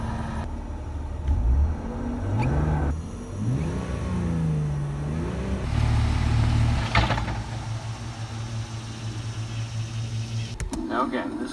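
A 2001 BMW 330i with manual transmission revs up repeatedly, its engine pitch sweeping up and falling back in several throttle blips, then holding a steady higher drone before a short burst at the end, close and fairly loud.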